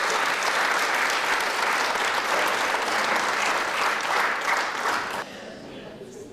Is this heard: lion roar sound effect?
no